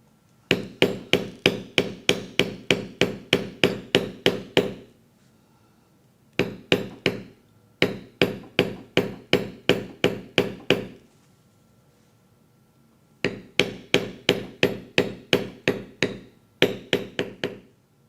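Sharp, evenly spaced taps of a metal beveling stamp struck into leather during engraving, coming in quick bursts of about ten to fifteen blows with short pauses between, close and crisp.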